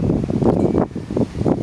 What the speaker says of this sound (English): There are some moderate winds today.